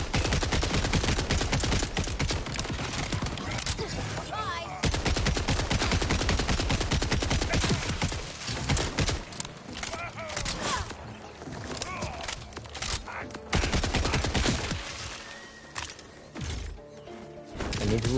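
Gunfire rattles through a vault hunter shooter video game, loud rapid bursts of automatic fire with brief pauses between volleys and some impacts and crashes mixed in.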